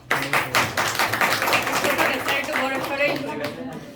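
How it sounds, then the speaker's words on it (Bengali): An audience applauding a student team's hydrogen gas science project, a brief burst of scattered clapping that stays fairly close and steady throughout. "ওদের জন্য একটা ছোট তালি হয় না?"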